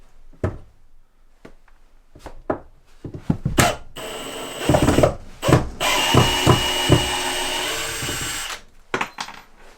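Wood being cut with a power tool at an off-grid island cabin, coming in bursts of mechanical whirring and rattling, with a sustained louder cutting stretch in the middle before it stops.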